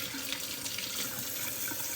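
Water runs steadily from a tap to rinse a dog, a close, even hiss of flowing water with no voices.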